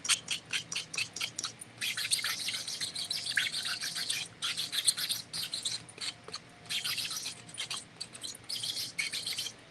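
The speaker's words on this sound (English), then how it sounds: "just go over these raised areas, even on the inside, and just give this a sand" Painted wooden popsicle-stick craft being hand sanded over its raised areas to distress the paint, giving repeated bursts of close, scratchy rubbing strokes with brief pauses between them.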